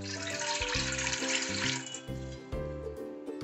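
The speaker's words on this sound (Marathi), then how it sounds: "आता यामध्ये पाणी घालून घेऊ" Water poured from a vessel into a steel cooking pot on a gas stove while making khaman dhokla, a close gurgling splash with shifting resonant tones as the pot fills.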